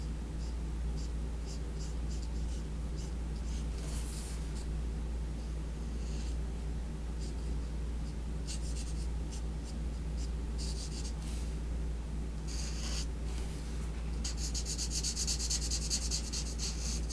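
Copic marker chisel tip rubbing and scratching across paper in steady back-and-forth strokes, close and continuous over a low background hum, with denser scribbling bursts toward the end.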